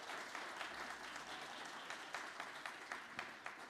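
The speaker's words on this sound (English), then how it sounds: "giving Al Roker one more big Cronkite round of applause" An audience at an ASU Cronkite award student event applauds steadily, with dense, continuous clapping from a crowd throughout, moderately distant and without speech.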